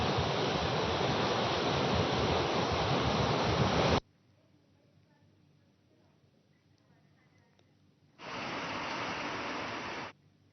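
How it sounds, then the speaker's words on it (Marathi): Heavy monsoon rain and sea at Juhu Chowpatty beach, Mumbai: a loud, dense roar that runs for several seconds, cuts to near silence, then returns briefly at similar strength. "मुंबईतल्या जुहू चौपाटी परिसरामध्ये सुद्धा तुफान पाऊस बरसताना दिसतोय"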